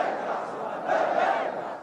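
Street crowds in Jordan and Yemen rallying, a dense roar of many voices chanting and shouting together, steady and loud throughout, swelling slightly midway.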